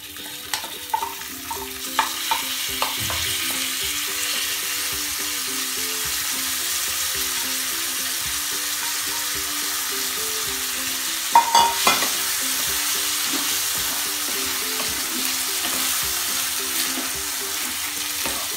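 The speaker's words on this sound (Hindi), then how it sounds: "दो मिनट के लिए चावलों को भी भूनेंगे।" Rice sizzles and crackles as it is stirred and roasted in a pan with spices for Kashmiri pulao, a steady close frying hiss with a few sharp spatula scrapes and clicks.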